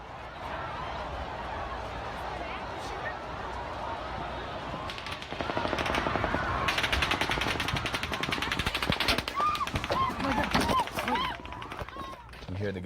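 Sustained rapid gunfire sounds at a concert in Las Vegas, heard from a distance. Bursts of cracking shots run over crowd noise and screams, growing denser and louder partway through, while people talk and shout nearby.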